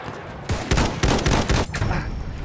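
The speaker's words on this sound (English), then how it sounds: "Enemy machine gun sighted!" Machine gun fire in the World War I shooter Battlefield 1, heard as a series of sharp, loud, closely spaced bursts, with more scattered gunfire trailing off behind.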